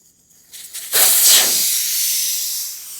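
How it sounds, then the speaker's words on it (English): Air hisses loudly out of a tire through its open valve stem after the Schrader valve core has been removed, on a tire machine. A few faint puffs come first, then a strong burst settles into a steady, continuous rush. "I'm letting every last bit of air come out of this tire before I try to break the bead."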